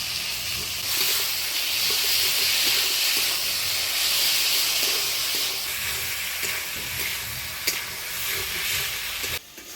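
Ground spice paste sizzles steadily in a hot pan for a Bengali fish curry with potato and pointed gourd, with a continuous hiss and occasional stirring scrapes that ease off near the end.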